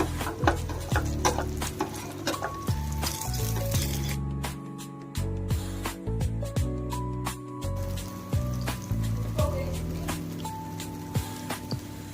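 Brinjal frying in hot oil while being stirred, with repeated scraping and clinking of a utensil against the pan over a steady sizzle, no speech.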